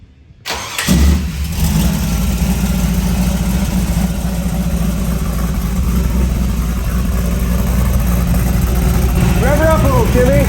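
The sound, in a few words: classic muscle car engine starting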